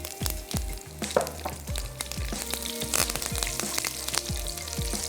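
Fennel seeds and curry leaves sizzle and crackle in hot oil together with mustard seeds, fenugreek and nigella, a steady frying hiss broken by many small sharp pops, close by with no voices.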